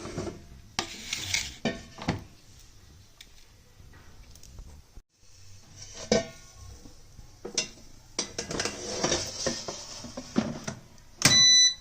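Oiled pointed gourd slices are laid into an air fryer basket with scattered clinks, scrapes and rattles of metal and plastic, irregular and close, ending in a sharp clatter as the basket is pushed in.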